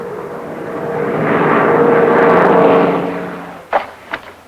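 A McDonnell Douglas A-26 airplane flies past, its engine drone swelling to a loud, sustained roar and then fading, followed by a few sharp bangs near the end.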